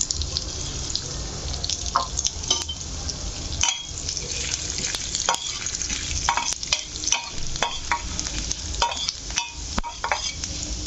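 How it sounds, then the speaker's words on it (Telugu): Chana dal, urad dal and cumin frying in a pan with a steady crackling hiss, broken by sharp clicks and scraping stirs throughout; no one speaks. "ఫస్ట్ ఈ పచ్చిశనగపప్పు అలాగే మినప మినప్పప్పు కూడా ఫ్రై చేసుకోవాలి అందులోనే కొంచెం జీలకర్ర వేసుకోవాలి"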